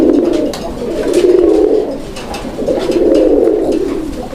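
Pigeons cooing in a loft, loud and close, with deep rolling coos swelling and fading in slow repeated waves and faint chirps behind.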